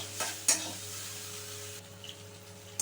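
Coconut paste fries quietly in a pan for a banana-flower dish, a soft, faint sizzle broken by a few light scrapes of stirring over a steady background hum.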